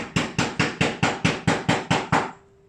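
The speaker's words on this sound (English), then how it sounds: "just drilling out some of the exterior wall for the pipes" Drilling through an exterior wall to make room for pipes gives nine heavy, evenly spaced pounding blows in quick succession, loud and close, then stops abruptly.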